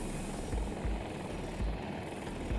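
Helicopter in the video game Battlefield 2042 during a match, its rotor thumping in a steady, fast rhythm under a loud, constant engine roar, with no voices over it.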